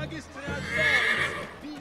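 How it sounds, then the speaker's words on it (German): A horse neighs in the video game Assassin's Creed 3, a single rising whinny of moderate loudness heard over talk and background game sound. "Ein Pferd, wer sagt's denn?"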